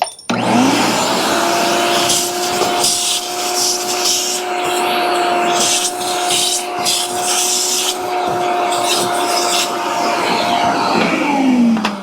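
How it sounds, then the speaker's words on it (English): A vacuum cleaner hums loudly and steadily up close, with rattling scrapes as metal shavings are sucked up, starting and stopping at the edges. "Vacuum up the shavings real quick."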